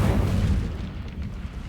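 An Incendio fire spell cast in Hogwarts Legacy, a loud deep whooshing burst of flame that rolls heavily at the start, then eases into a lower rumbling crackle over under two seconds, with no voices.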